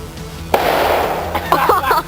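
Airsoft grenade going off outdoors, a sharp sudden pop followed by a loud sustained hissing burst, with voices talking briefly near the end.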